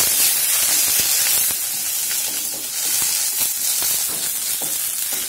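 Dried red chillies and curry leaves sizzle loudly and steadily in hot oil, a close, continuous frying hiss, for banana flower thovaram.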